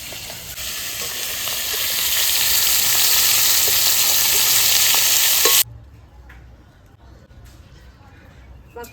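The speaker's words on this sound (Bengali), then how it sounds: "আজকে মাশরুম দিয়ে রান্না করবো বলে আমরা এটা ভেজে নিচ্ছি মাছটা" Kokila fish frying in hot oil in a pan alongside mushrooms being prepared: a loud, steady sizzle with stirring scrapes builds for about five seconds, then cuts off abruptly, leaving only faint background noise.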